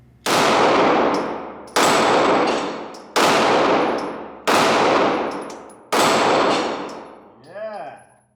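Five loud, evenly spaced pistol shots from a Tara TM9, each with a sharp crack and ringing decay, followed by a faint metallic clang and wobble from a steel flipper target at the end.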